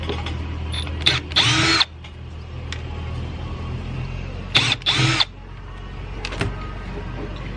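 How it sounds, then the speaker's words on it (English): A power drill or driver backs screws out of a car's distributor cap in two short whirring bursts over a steady background hum, with brief clicks and handling noises between them. "Take off these screws right here."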